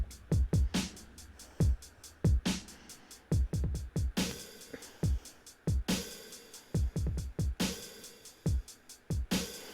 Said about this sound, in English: let's listen to this drum pattern and then see what's different in the other one